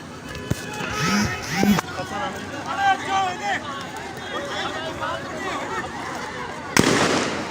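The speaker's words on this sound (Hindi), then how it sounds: "ये हवाई फायर हम ॿुधी रहिया आहियो" Several sharp gunshots fired into the air during a police clash involving tear gas and firing ring out amid crowd noise and shouting voices, with two distinct loud cracks and other bangs over continuous babble.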